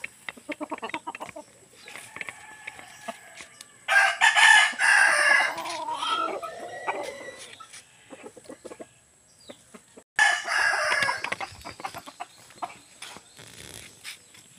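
Roosters on a gamefowl farm crow in two loud bursts, each a long strained call, with scattered clucks and soft clicks in the quiet between.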